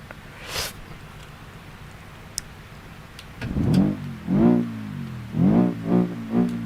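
A car engine in a drifting video game: a quiet stretch, then several rising revs in bursts, each swelling and falling in turn, close and fairly loud with no talk.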